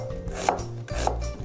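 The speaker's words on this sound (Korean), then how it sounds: "샐러드에 들어가는 양파를 썰 땐 결 반대로" Onion is sliced on a cutting board for salad, with two crisp knife chops landing about half a second apart, each followed by a soft board knock.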